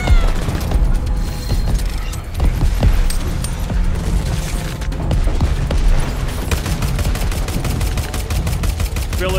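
Dense, continuous gunfire in the Xbox One game Crackdown 3: many rapid overlapping shots and booms, loud and close, running nonstop through the whole stretch.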